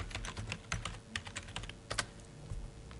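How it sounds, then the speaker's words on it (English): Typing on a computer keyboard while searching a digital history collection, a fast, uneven run of close, crisp keystrokes with short pauses and no voices. "I typed in Ellis Avenue"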